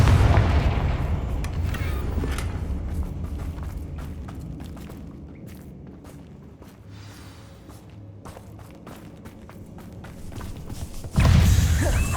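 In the Hogwarts Legacy video game, a Confringo blasting spell goes off with a booming, rumbling blast, then fades into a series of dull thumps and a sharp late impact.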